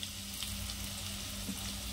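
Chopped onion, cinnamon stick and bay leaf fry in hot oil for Kolhapuri misal, giving a soft, steady sizzle with faint crackles at low volume.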